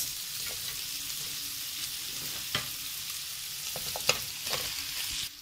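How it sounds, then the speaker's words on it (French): Zucchini sautéing in a pan for zucchini, bacon and goat cheese pie: a steady broad sizzle of frying with a few sharp stirring scrapes and clicks, close and moderately loud, no voices. "ensuite on va venir donc ajouter les courgettes et on va les faire revenir pendant quelques minutes."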